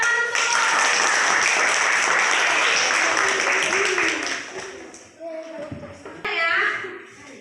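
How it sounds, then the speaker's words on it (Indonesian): Classroom applause for a student, a dense burst of many small hands clapping for about five seconds, then fading into children's chatter and a teacher's voice. "Tepuk tangan untuk"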